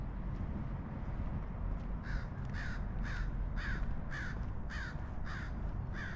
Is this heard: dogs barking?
no